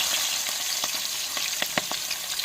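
Chopped large onions, green chillies and curry leaves frying in hot oil in a pan, a steady dense sizzle with a few sharper crackles and pops near the end.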